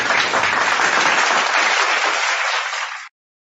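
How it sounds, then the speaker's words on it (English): A live webinar audience gives applause for the speaker, a learning and development coach: dense, steady clapping that holds evenly for about three seconds, then cuts off abruptly, with no voices over it. "let's give a round of applause for our speaker"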